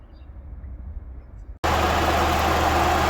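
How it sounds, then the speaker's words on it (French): Engine of a Peugeot 206 idling warm while an engine flush additive circulates, a low steady running hum that jumps abruptly to a much louder, broadband roar halfway through and holds steady. "le moteur est chaud, donc je vais mettre l'engine flush. On va laisser tourner ça 8 minutes"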